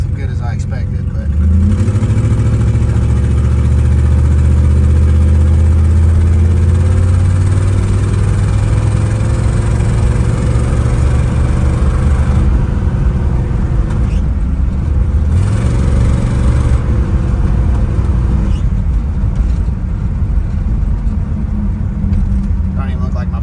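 A 1960 Ford Thunderbird with a changed engine drives along a road. Its engine drones steadily up close and the pitch shifts as it speeds up and slows down, with people talking over it inside the car.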